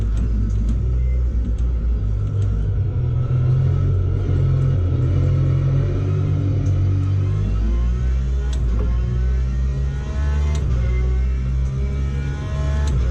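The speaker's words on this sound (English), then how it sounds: "The engine sounds are great." A race car engine in the video game Le Mans Ultimate roars steadily with a deep rumble, revving up and down through gear changes, loud and continuous with no talking.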